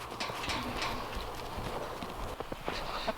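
A goat walks through snow with soft, uneven footsteps and light crunching, close and fairly quiet, with no talking.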